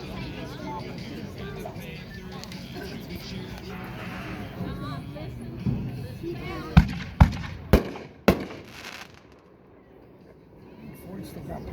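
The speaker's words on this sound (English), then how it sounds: "Next, we're going to shoot 2 40-gram canisters." Two 40-gram canister firework shells go off at a consumer fireworks demo in Aiken, SC, a few sharp booming cracks in quick succession after a stretch of crowd murmur and outdoor noise, then fading away.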